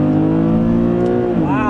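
A 2012 Infiniti G37x sedan with a naturally aspirated 3.7-liter V6 accelerates hard on a back road, its steady loud engine drone rising in pitch and then shifting near the end.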